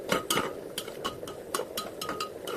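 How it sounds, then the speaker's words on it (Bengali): Ghugni masala is stirred and fried in a pan: repeated sharp scraping clinks of a spoon against metal over a soft sizzle, close and steady. "মশলাটাকে ভালো করে কষিয়ে নিচ্ছি"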